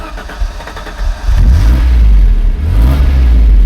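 A 4x4 Ford Granada Scorpio, started with its key, kicks into life with a short crank and then revs loudly and close up, the engine note rising and falling through a couple of throttle blips, with no talking.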